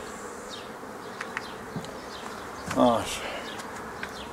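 Honeybees buzz steadily around the listener, with a few louder passes close by and a brief spoken word in between.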